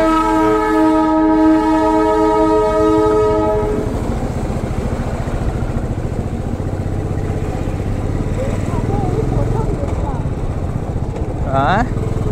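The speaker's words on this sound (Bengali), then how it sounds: "ট্রেনের আওয়াজ পাচ্ছি, দেখি এরকম।" A Darjeeling Himalayan toy train near Kurseong sounds a long, loud, harmonic horn blast, then rumbles past nearby on the rails with steady rolling noise, and voices speak at points.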